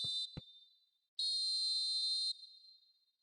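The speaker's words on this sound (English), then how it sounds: "And the half-time whistle goes." Referee's half-time whistle in a PES football video game: a short blast, a second quick chirp, then one long sustained shrill tone, loud and clear with no talk.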